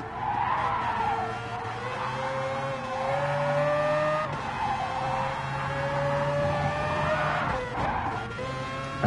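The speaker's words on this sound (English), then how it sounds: "just listen to the engine on this Mazda" A Mazda Group B rally car in Gran Turismo Sport at Circuit de Barcelona-Catalunya howls as its engine climbs and drops through the gears, with tire squeal running under the steady, loud drone.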